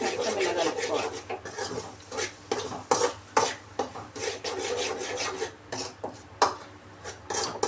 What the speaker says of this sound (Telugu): సో ఫ్రై కాబట్టి మొత్తం ఇలా కలుపుకోవాలి